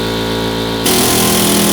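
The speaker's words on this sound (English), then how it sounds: "and an air hammer to drive things out." A pneumatic air hammer drives out the rear shackle on a Chevy truck during restoration, a loud close steady buzzing hammering that starts abruptly partway through after a lower mechanical hum.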